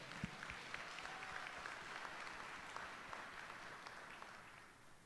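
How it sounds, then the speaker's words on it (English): Audience at a commencement ceremony gives a sustained round of applause, a soft, even patter of many hands that stays steady before tapering slightly at the end. "Let's give them all a round of applause"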